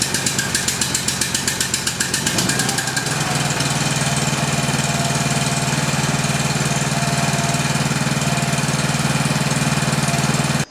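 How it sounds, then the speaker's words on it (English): A portable generator engine is pull-started: a few quick rhythmic cord pulls and sputters, then the engine catches and settles into a loud, steady running drone close by. "Simply turn the engine switch to on and then pull the start cord."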